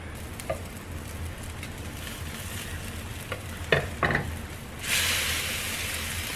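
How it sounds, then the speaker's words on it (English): Tuna patties frying in a pan over medium to medium-high heat, a steady soft sizzle with a few brief stirring or scraping sounds, then a louder burst of hissing near the end. "So you're just gonna let it cook, and we're gonna flip them in just a minute."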